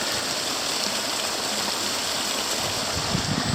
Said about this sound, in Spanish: Ahí veremos otro reguerín, otro arroyo.